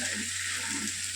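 Soybean and potato curry with onion and ginger paste bubbling and sizzling in a wok, a steady close hiss of frying throughout with soft bubbling underneath and no talk.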